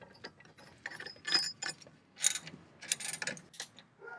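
A 3/4-inch socket wrench tightens the threaded 1/2-inch hitch bolt of a Swagman XTC2 tilting hitch-mount bike rack, heard as close, irregular metallic ratcheting clicks and clanks in short bursts without speech.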